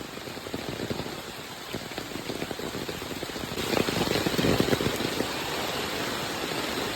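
Heavy monsoon rain pours steadily in the Konkan countryside, a dense continuous hiss of drops on surfaces that swells louder midway through, with no voices.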